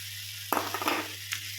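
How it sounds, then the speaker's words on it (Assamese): Olive pickle frying in oil as lumps of jaggery go into the pan, a sudden loud sizzle bursting in and crackling on, with a second brief flare near the end and a steady low hum underneath. "জলফাইখিনি ভালদৰে প্ৰথমতে ভাজি ল'ব,"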